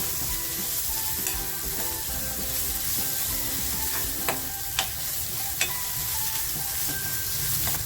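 Onion frying in a pan for a garlicky val bean curry gives a steady close sizzle with stirring, a few sharp utensil clicks near the end and no talk.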